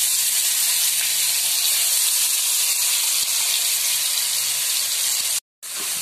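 Ground chili paste with about twelve garlic cloves fries in a wok, giving a steady, close, full hiss of sizzling that holds evenly and then cuts out briefly near the end.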